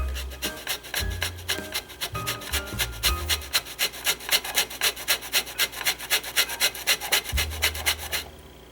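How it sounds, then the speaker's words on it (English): Frozen watermelon and lemon peel rasp against a grater in rapid, regular strokes, a rhythmic scraping that speeds into a steady pattern, loud and close with low thumps between. "we're going to grate this, and in the middle of grating it, we're going to grate the peel"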